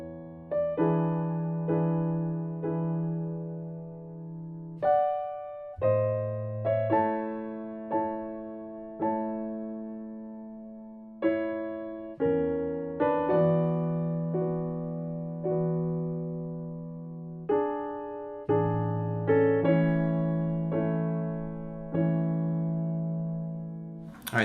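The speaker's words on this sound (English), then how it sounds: "the first part of the Chopin Prelude in A that we're learning today sounds like this" Solo piano plays the opening half of Chopin's Prelude in A, a slow, gentle sequence of soft chords and melody notes that each ring and decay, with short pauses between phrases and no talking.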